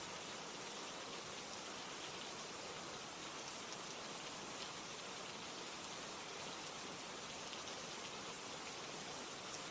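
Steady rain falls throughout, a dense even hiss of drops on surfaces with no breaks or voices, constant and moderately loud.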